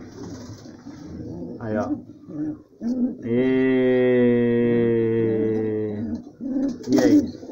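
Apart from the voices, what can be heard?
pigeon cooing while brooding on eggs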